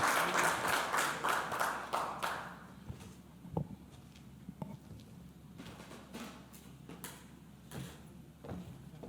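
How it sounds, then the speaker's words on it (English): Applause from a conference audience greets Sandy Thurman as she comes up to speak; dense clapping fills the first couple of seconds, then thins to scattered claps and room noise. "Hand of applause for Sandy as she comes"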